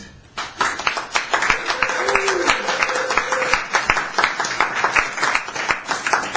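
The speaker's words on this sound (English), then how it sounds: "Give yourselves a big round of applause" A small crowd claps in a back-room poetry night, scattered hand claps building and thinning out, with a voice talking over the applause.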